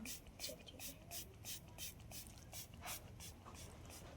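Spray bottle misting water onto dry hair before a home haircut, a steady series of short, quiet hissing spritzes in an even rhythm, close by with faint background sound.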